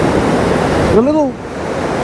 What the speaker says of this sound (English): It's not so much the water rushing down here, it's just the water that's coming over the rocks.